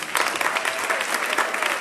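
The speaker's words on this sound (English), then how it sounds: "can we give him a round of applause again?" An audience at a women-in-construction conference gives a round of applause, dense continuous clapping throughout the short stretch, loud and close.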